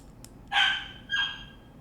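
A puppy gives two short, high yips in quick succession, close to the microphone against a quiet indoor background.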